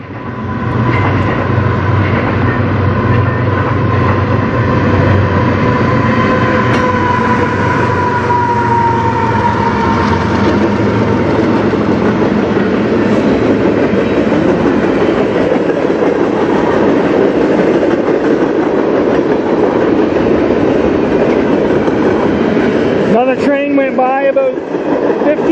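A CN freight train with locomotives rolls past Sarnia station, a loud continuous rumble of wheels and cars with a horn tone early on, and a person talking over it.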